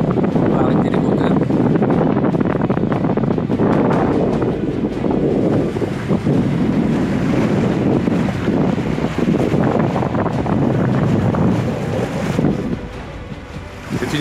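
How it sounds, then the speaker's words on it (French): A sailing boat under sail with engines off near Cascais: steady broadband wind rush and microphone buffeting over continuous splashing and hissing waves against the hull, loud and unbroken throughout. "Le bateau sous voile."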